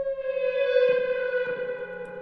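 An electric guitar through an AC amp with reverb plays a reversed chorus progression in an indie pop production: sustained, swelling chords with a ghostly, backward-blooming wash, changing twice and ringing steadily throughout.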